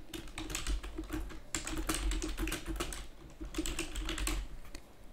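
Rapid, continuous typing on a computer keyboard: dense clusters of close, crisp keystrokes in a steady run with brief pauses, heard alone with no voices.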